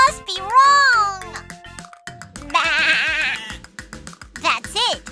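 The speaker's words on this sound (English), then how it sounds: "This is the sound of a fluffy sheep." A cartoon sheep bleats in a children's animal song, long wavering baas over a bouncy musical backing with playful sound effects, loud and close.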